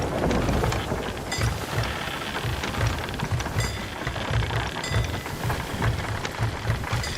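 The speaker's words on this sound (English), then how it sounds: "Anytime I stream by myself, playing Sea of Thieves, I'm always traveling through a goddamn storm." A rainstorm with thunder in the pirate sailing video game Sea of Thieves: dense, steady rain hiss fills the whole stretch, with low thunder rumbles pulsing underneath and no voices.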